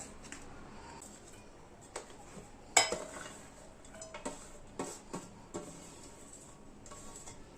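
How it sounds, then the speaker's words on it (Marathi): A knife cuts paneer into small pieces, giving soft scattered taps and clicks on a board, one sharper knock standing out, faint and close with no talk. "तर पनीरचे पण मी छोटे छोटे छान तुकडे करून घेणार आहे"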